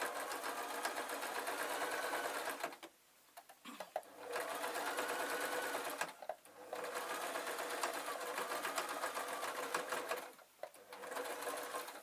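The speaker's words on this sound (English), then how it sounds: "run a couple of stitches just to keep everything in place" Sewing machine running stitches on a tweedle muffler, several steady buzzing bursts of stitching separated by short quiet pauses, loud and close.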